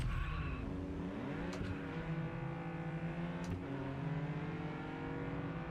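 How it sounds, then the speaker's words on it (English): A car engine in the racing game Test Drive Unlimited Solar Crown revs and accelerates continuously, with a steady loud drone, shifting pitch and brief tire-squeal accents, without talk. "I pressed the throttle. I was like, what's that noise? Oh yeah, I'm driving a car"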